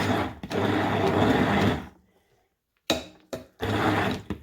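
An electric mixer whirring through a thick skinny lemon mousse made from three ingredients, a loud steady motor run that stops briefly, then restarts in short bursts before running again.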